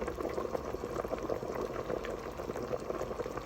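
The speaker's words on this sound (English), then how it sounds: "Look at that bubbling away in there." Thick tonkotsu ramen broth boils in a pot around the four-hour mark, a steady, dense stream of small bubbling pops and gurgles, moderately close and continuous with no talking.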